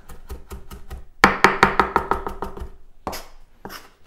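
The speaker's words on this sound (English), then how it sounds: "Chopping a ton of herbs is very satisfying, I think." A big pile of herbs chopped with two knives on a board for a Mediterranean dinner, heard as quick, rhythmic close-up knife taps that start lightly, turn into a loud burst of strokes, then pause and resume in short runs.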